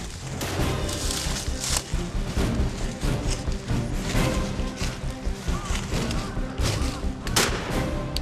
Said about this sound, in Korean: 다시 이어진 총성